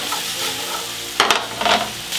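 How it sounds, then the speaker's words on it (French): Onions sweating in a hot pot, a soft continuous sizzle with a few sharp bursts of utensil scraping and stirring close by. "Les oignons commencent à bien suer."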